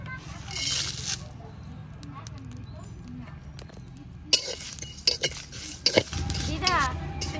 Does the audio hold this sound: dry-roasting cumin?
yes